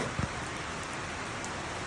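Steady rain falls outdoors on a rainy day, a dense even hiss throughout with a couple of brief soft thumps near the start and no talking.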